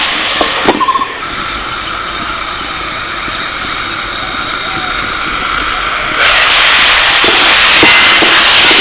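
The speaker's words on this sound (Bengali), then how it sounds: "ভালো করে নেড়ে চেড়ে নিলাম এবার একটু চাপা দিয়ে সিদ্ধ করে নেবো" Mixed vegetables steam under a lid in a covered pan, giving a steady broad hiss that holds throughout and swells louder near the end, with a few faint clinks at the start.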